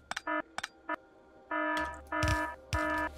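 The low-steam alarm in the video game Factorio: a few short electronic blips followed by three longer, sustained buzzing tones with brief gaps between them, moderately quiet.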